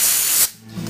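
Compressed air blasts through a small-engine Briggs & Stratton carburetor in a loud, close hiss lasting about half a second, then drops away to quiet room noise.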